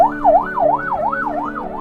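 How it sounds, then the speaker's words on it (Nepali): An ambulance siren wails loudly and close by on the road during a ride to Kurintar, rising and falling in a fast, even cycle with no voices over it. "एम्बुलेन्स"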